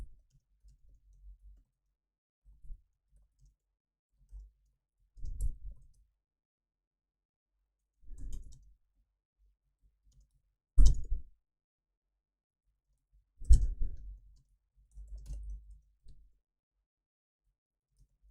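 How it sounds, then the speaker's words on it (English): Sparse bursts of computer keyboard typing and clicking, a few keystrokes at a time separated by long quiet gaps, close to the microphone with no talk. "I don't know why I'm typing that"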